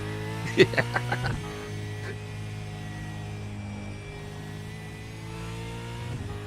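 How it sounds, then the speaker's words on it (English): V8 Supercar engine in the iRacing sim revs in a few quick blips, then settles into a steady droning hum with a faint rise near the end, heard alone at moderate level. "This is just have a listen to this V8."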